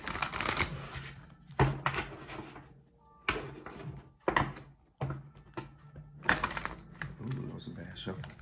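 A tarot deck is shuffled by hand in several bursts, with crisp riffling and snapping of cards close up, separated by short pauses, and a voice talks quietly in between.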